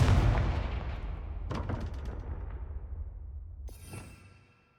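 Fiery blast spell cast in Hogwarts Legacy: a loud booming burst that decays into a rumbling tail, followed by a couple of sharp crackling hits and a brief shimmering magical flourish near the end.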